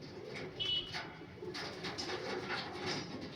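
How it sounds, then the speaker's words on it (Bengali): A green-eyed male Malwai pigeon coos softly in a faint, low murmur, with a brief higher call early and quiet background noise. "গ্রিন চোখের পায়রা"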